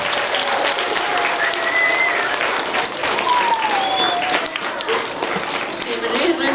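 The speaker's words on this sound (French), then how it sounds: "On peut se donner une bonne main d'applaudissements." A school audience at a primary school Christmas show applauds loudly and continuously, dense clapping filling the room, with a few voices and whistles rising over it.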